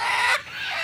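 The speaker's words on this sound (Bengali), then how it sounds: "ভাই, মুরগি ধরা টেকনিক।" A chicken lets out a short, loud squawking cluck while being caught at a poultry market, close and abrupt, cutting off quickly and followed by quieter agitated fluttering noise.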